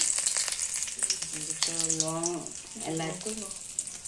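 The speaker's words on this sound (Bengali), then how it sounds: "ফোড়নের জন্য আমি এখানে শুকনো লঙ্কা দিয়ে দিলাম, তেজপাতা দিয়ে দিলাম" Dried red chillies and bay leaves sizzle in hot tempering oil, giving a continuous bright crackling hiss that runs under a speaking voice.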